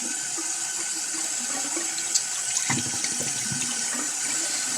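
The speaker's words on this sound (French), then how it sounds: "Donc, je vais le rincer tout de suite." A plastic bottle is rinsed under a running tap, and the water hisses and splashes steadily up close. A small knock or two sounds midway, with no voices.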